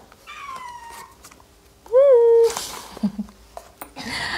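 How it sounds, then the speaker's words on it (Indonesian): A cat meows twice nearby, first a drawn-out plaintive call, then a louder, shorter cry, with soft rustling and handling noises around it. "Kucing saya mau keluar."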